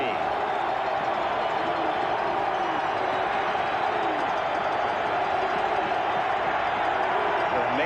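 The Mile High Stadium crowd at a 1985 American football game roars steadily, a dense, constant wall of cheering under play-by-play commentary.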